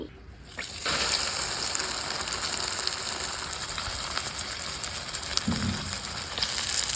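Paratha flatbread frying in a pan, a sudden loud rushing sizzle that starts abruptly and stays dense and steady, close by, with a brief thump partway through.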